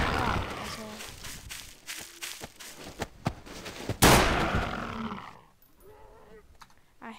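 A shotgun fires repeatedly in a zombie video game, giving sharp, loud blasts at irregular intervals amid game noise and chatter. A large burst follows, then things fall quieter with softer sounds.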